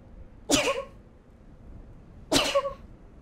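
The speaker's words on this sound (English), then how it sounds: "Oh, no, I gotta sneeze." Two sharp, breathy bursts from a person sneezing, spaced about two seconds apart, close and fairly loud over a quiet indoor background.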